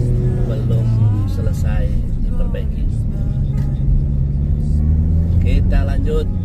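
A queue of cars and motor vehicles rumbling past on an alternative road beside an unfinished bridge on the Banjarbaru–Batulicin route, a steady close engine drone under continuous talk.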